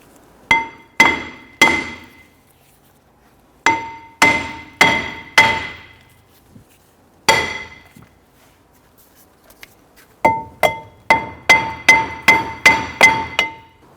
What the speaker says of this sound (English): we went ahead and tapped the back of the rotor a little bit with a hammer